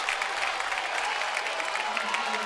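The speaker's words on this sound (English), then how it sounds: "that draws a well-worthy round of applause" A baseball crowd at a minor league game applauds a diving, full-stretch fielding play, the clapping steady and moderately distant, with faint murmur underneath.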